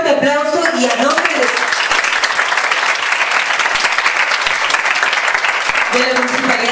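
Loud, dense audience applause at a youth entrepreneurship award event in Miraflores, continuous clapping for several seconds, with a speaker's voice briefly over it at the start and end.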